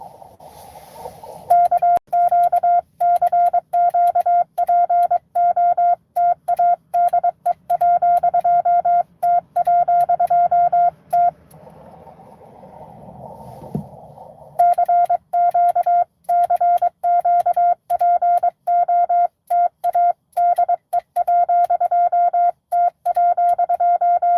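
Morse code CQ is keyed over an amateur radio as a single steady tone, broken into rapid short and long beeps with brief pauses, loud and close, with faint background hiss.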